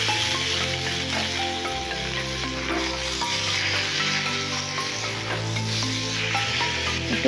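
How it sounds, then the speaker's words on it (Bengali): Mushrooms fry with onion and chili in a pan, giving a steady dense sizzle with scraping stir strokes throughout, under a tonal background. "পেঁয়াজ লঙ্কা কিছুটা ভাজার পর মাশরুমটা দিয়ে দিলাম ভাজার জন্য।"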